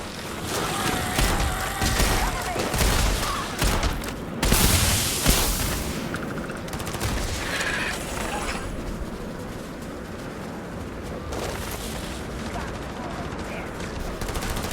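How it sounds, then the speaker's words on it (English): Rapid bursts of gunfire and heavy booms crack through the Starfield space game, a shotgun among loud repeated blasts in a dense, chaotic firefight, with a voice talking at times. "I'll use the shotgun."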